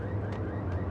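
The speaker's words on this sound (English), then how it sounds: "The payphone started to ring." A payphone rings in Max Payne, a faint electronic trill with two short ring pulses over a steady low hum, no voices.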